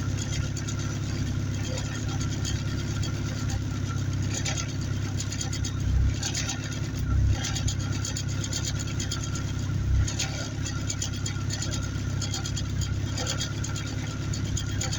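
A car engine idles steadily at its first start-up after an AEM oil gauge was fitted, a continuous low rumble with a few brief bumps in level, close and fairly loud throughout.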